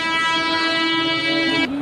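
At a railway station, a train gives a loud, sustained horn-like tone that holds steady for under two seconds before cutting off.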